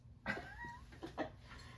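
A cat nearby gives a short meow-like vocal call followed by a couple of softer chirping sounds, fairly quiet in a calm room with no speech.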